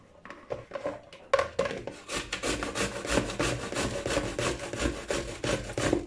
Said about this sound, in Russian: Теперь начинаем их тереть на крупной терке.